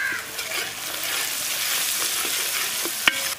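Green chillies fry in a pan for bamboo chicken biryani, giving a loud, even hiss of sizzling oil. A couple of sharp spatula knocks sound near the end.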